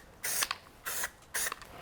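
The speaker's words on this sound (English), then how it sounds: "use a bit of spray adhesive just to hold it in place" Spray adhesive aerosol misting onto upholstery fabric, three short hissing bursts spaced about half a second apart, quiet and close, with no talking.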